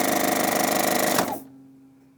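A 4-thread overlock serger whirs loudly and steadily while its needle threader works, then winds down abruptly, leaving a faint lingering hum.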